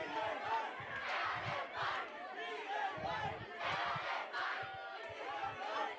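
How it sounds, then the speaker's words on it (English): Crowd noise at an under-16 boys' youth football final in Goa, a dense roar of voices that swells and surges in waves, loud and sustained throughout. "The cheers intensifying from the crowd."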